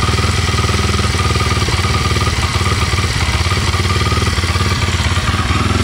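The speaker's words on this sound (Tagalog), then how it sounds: "Tingnan natin ang tunog ng KLX 230." Kawasaki KLX 230 motorcycle engine running steadily at idle, a close, loud, even mechanical thrum with a fast regular pulse and light clatter, no speech.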